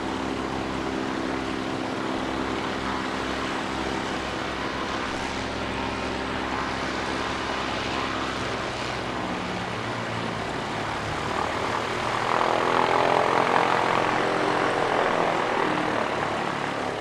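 ATR turboprop airliner landing at Christchurch Airport, New Zealand, its steady propeller and engine drone holding throughout and swelling louder toward the end as it nears.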